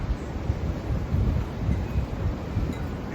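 Strong storm wind gusting and roaring in steady surges during heavy rain, close to the microphone with buffeting noise and no voices.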